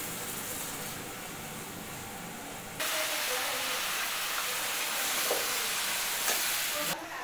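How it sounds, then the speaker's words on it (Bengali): Fish curry frying in a pan hisses louder as a little water is added, a steady steamy sizzle that jumps in intensity and holds, close and continuous, no speech. "দিয়ে এবারে আমি হালকা করে একটু জল দিয়ে দিলাম।"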